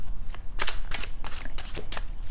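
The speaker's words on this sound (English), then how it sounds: "I am shuffling the cards" A deck of tarot cards is shuffled by hand, giving several quick riffling bursts with brief pauses between them, close and crisp, and no talking.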